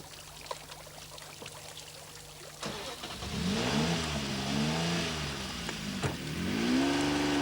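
A 1992 Jaguar XJ220 supercar engine idles quietly, then revs up strongly with rising and falling pitch sweeps, loud and close, with no speech.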